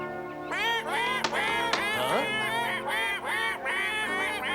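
Cartoon geese honking and squawking in an animated gnome series, a loud, busy run of repeated nasal honks from more than one bird, close and continuous, with no talk over it.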